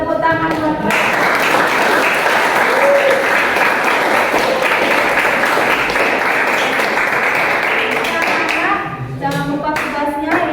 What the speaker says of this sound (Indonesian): kita berikan tepuk tangan kepada Wulan, Fadil, dan Catika yang tadi aktif menjawab pertanyaan-pertanyaan kita hari ini